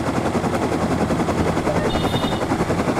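Rapid automatic gunfire in the survival game Rust during a flying raid, a steady dense rattle of shots lasting the whole short stretch with no talk over it.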